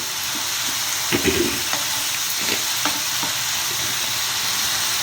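Tomato mint chutney with jaggery and tamarind simmering in a pan, a low steady bubbling sizzle with a few soft stirring knocks, close and unvoiced.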